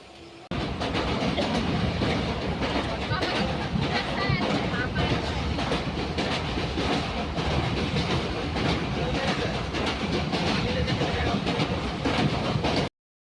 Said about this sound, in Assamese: এয়া গোগামুখৰ পৰা ট্ৰেইন এৰিছে